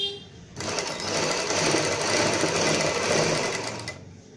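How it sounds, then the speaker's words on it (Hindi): A sewing machine stitches a fabric strip to make dori piping for potli buttons, a steady close whirring run of about three and a half seconds that starts and stops abruptly, with no talk over it. "यहाँ पर हम एक डोरी पलटने के लिए सिलाई लगाते हैं।"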